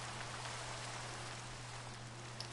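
Steady rain pours in the Minecraft video game, a constant even hiss of drops with a low hum beneath and no talking.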